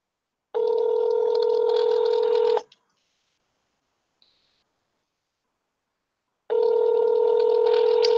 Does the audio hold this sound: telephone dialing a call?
yes